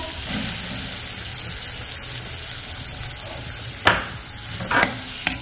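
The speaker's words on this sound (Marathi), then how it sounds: "आता कांदा थोडासा लालसर परतून घेऊ" Onion with ginger-garlic paste frying in oil in a pan, with a steady close sizzle and a few sharp stirring scrapes near the end.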